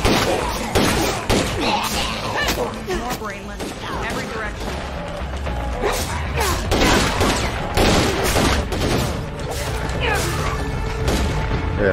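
Survivors in State of Decay 2 fire in a dense, continuous fusillade, rapid overlapping gunshots and crashes filling the clip while people talk over the chaos.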